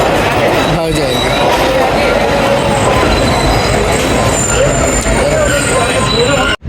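The 48 Down Rehman Baba Express passenger train rolls along the rails on its Attock City to Rawalpindi run, a loud, steady rumble of carriages with wheel squeal and clatter, heard up close from on board.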